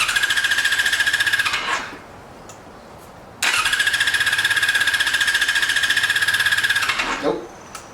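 A 2002 Yamaha YZF R6 sport bike, left sitting for six years with bad gas, cranks over with the choke on in two loud, steady bursts of rapid whirring starter grind, separated by a brief pause.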